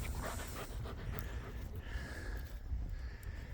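A livestock guardian dog pants steadily and close by during the start of the grazing season, its quick breaths forming a continuous rough rhythm with no voices.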